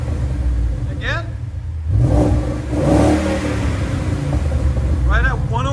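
A 2014 Ford Mustang GT with a 5.0L V8 and cutout mufflers revs up nearby, loud rising engine roar swelling twice against a rumbling idle, with voices briefly in the background.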